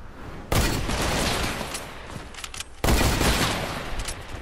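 Two sharp, loud sniper rifle shots in a first-person shooter game's one-on-one sniper duel, each a sudden broadband crack followed by a long rolling echo, spaced about two seconds apart with no voices over them.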